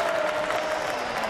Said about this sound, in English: And the Yankee fans with somewhat of a Bronx cheer.